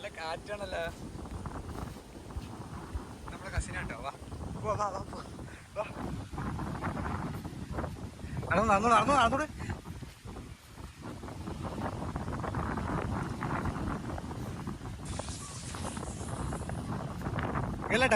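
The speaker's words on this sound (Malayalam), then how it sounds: "നല്ല കാറ്റും ഉണ്ടായിരുന്നു." Strong wind buffets the microphone at the seashore of Tanur's Thooval Theeram beach, a steady, loud rushing roar across the whole stretch, with people talking over it.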